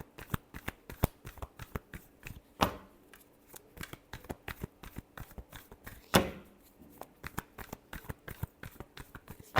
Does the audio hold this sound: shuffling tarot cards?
yes